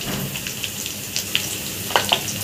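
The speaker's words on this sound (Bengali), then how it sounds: "এখন এটাকে ভালোভাবে নাড়াচাড়া করে একটু ভাজা ভাজা করে নেব" Broken rice frying in mustard and soybean oil with bay leaf, dried chili, chopped ginger, garlic and onion gives a steady close sizzle, with a few sharp clicks of stirring near the end.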